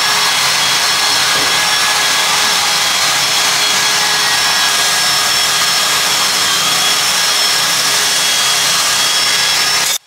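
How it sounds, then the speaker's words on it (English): A power tool burnishes scale off hand-forged metal, a loud, continuous abrasive whine with steady tonal hum running unbroken for about ten seconds before cutting off abruptly, no voices present. "Now for the clean-up to burnish all the scale off."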